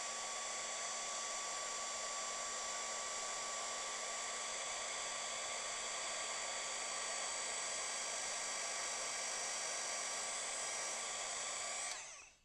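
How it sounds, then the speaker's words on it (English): A heat gun blows a steady, loud, high-pitched whir as it melts embossing powder on parchment for card making, running unbroken for about twelve seconds before cutting off abruptly. "That's why the heat gun wasn't working. It is working."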